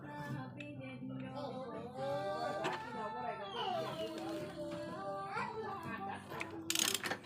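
Wrench clicking as it turns an 8 mm nut while a Yamaha Fino scooter's drive belt is replaced, with rapid ratcheting and metallic rattles throughout, close and steady, under someone talking and some children's voices.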